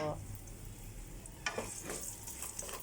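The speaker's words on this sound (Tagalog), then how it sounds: "ilalagay natin yung ating bawang. Ayan, medyo papula-pulahin lang natin. Isabay ko na yung aking konting luya." Garlic and ginger sauté in oil in a pan for a mung bean dish, a soft steady sizzle with a few sharper crackles and stirring scrapes near the end.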